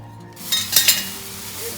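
Leftover potting soil from the morning is tipped into a plant pot during repotting. Close, gritty scraping and a few light clinks cluster near the middle, over a low steady background.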